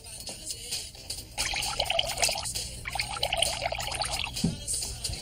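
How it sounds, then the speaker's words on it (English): Water poured from a height into a drinking glass, a steady splashing trickle that starts after a quiet moment and runs for several seconds, then stops with a small clink near the end. "Pour some water into two identical glasses."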